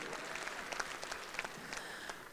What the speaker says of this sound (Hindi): अरे ताली तो जोर से बजाओ